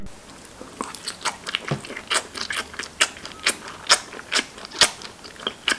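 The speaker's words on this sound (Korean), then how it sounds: "우선 족발부터 한 입 맛을 보았다" Someone bites and chews braised pig's trotters (jokbal) up close, with a series of sharp, sticky smacking and crunching bites in an irregular rhythm and no talk.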